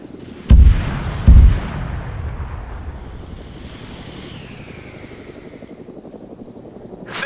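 Gunfire and heavy blasts in the military game Arma III during a Cold War battle: two loud booming shots early on, then a long rumbling wind-like roar of distant battle.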